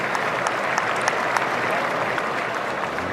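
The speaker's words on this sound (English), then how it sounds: "The fans give him a round of applause as they help him off the field" Stadium crowd at an Ole Miss at Alabama college football game applauds steadily as an injured player is helped off the field, a dense, even wash of clapping that holds at full strength for the whole stretch.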